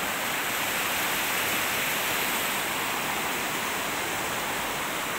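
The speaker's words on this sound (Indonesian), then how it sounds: "Wah, langsung ke aliran sungai." A river stream rushes beside a villa coffee spot in Puncak, a dense, steady broadband roar of flowing water with no pauses and no talk.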